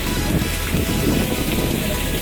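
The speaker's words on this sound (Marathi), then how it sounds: "मस्त पाऊस आहे." Steady rain pours over the mountains at Lonavala, a loud, dense, unbroken hiss of drops with no pauses and no voices.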